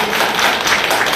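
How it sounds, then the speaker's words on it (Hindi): An audience at a political event claps loudly, a dense steady wash of applause filling the whole brief moment without a break. "करताली जोर रे ही जाओ"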